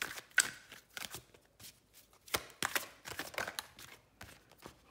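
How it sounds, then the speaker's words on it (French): Tarot cards being drawn and laid out by hand, a sequence of close, crisp papery snaps and slides in an irregular rhythm, fairly quiet with no talking. "Je vais tirer les autres cartes."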